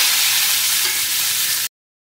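Chopped tomato and mango are stirred in hot oil tempered with five-spice seeds and a dried red chilli. A loud, steady sizzle runs without pause, then cuts abruptly to silence near the end.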